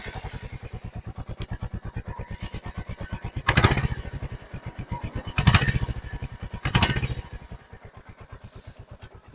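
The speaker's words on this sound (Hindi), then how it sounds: "अगर मैं इसकी एग्जॉस्ट साउंड दिखाऊं आपको" A Royal Enfield Hunter 350 motorcycle idles nearby with a rapid, even single-cylinder exhaust thump, rising in three short throttle blips before settling back to idle.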